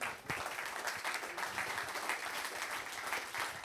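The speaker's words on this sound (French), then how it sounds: "Vous pouvez l'applaudir." An audience at a heritage business colloquium in the Pays d'Avignon claps to welcome guest Jean d'Aussonville, a quiet, distant, even patter of applause continuing throughout.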